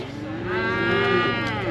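A gentle calf bellows and moos in a long, loud, sustained call among cattle at a calf-sorting gate, holding steady for nearly two seconds with no talk.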